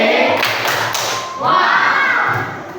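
Schoolchildren in a sixth-grade classroom clap a rhythmic chant, a few quick hand claps and thumps mixed with children's voices shouting along, close and loud.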